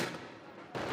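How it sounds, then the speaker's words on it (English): Police fire tear gas at protesters in Tbilisi, Georgia, producing a loud, dense wash of blasts and crowd noise. It runs for about a second and swells again near the end. "The police are firing tear gas right now to try and drive the protesters away"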